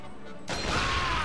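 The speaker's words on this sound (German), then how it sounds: "Ups, das war so, als hätte ich jetzt gerade einen Explosionsschuss geschossen." A sudden explosive gunshot blast erupts halfway through, loud and broadband with a lingering crashing tail, during gameplay of the World War II shooter Medal of Honor: Vanguard.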